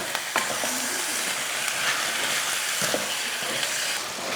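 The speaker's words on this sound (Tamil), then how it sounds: "சிக்கனை இந்த அளவுக்கு நல்லா அந்த எண்ணெயில் வெங்காயம் போட்டதுக்கப்புறமா இது போல் நல்லா வதக்கி எடுத்துக்கணும்" Chicken sautéing in hot oil with onion and ginger-garlic paste, a steady close sizzle with occasional stirring scrapes and clinks throughout.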